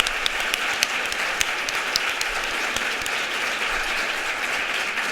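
A room of audience members applauds the speakers at a talk event in Madrid, a dense, even wash of clapping that carries steadily at full strength from start to finish.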